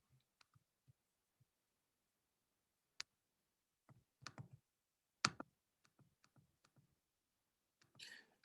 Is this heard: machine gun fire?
no